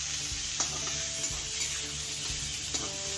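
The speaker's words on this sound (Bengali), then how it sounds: "পেঁয়াজগুলো দিয়ে এখন এটাকে আমি 1 মিনিট মতন লো ফ্লেমে অল্প ভেজে নেব" Onions frying over a low flame in a pan with katla fish pieces, a steady close sizzle with occasional light stirring clicks and scrapes, no voices.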